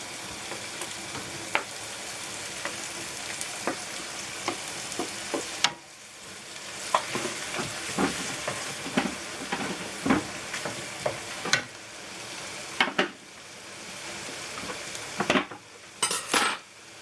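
Tomato sizzles in a hot frying pan while being stirred for stuffed plantains, a steady close fry hiss broken by frequent scraping, spoon clinks and bursts of louder crackling.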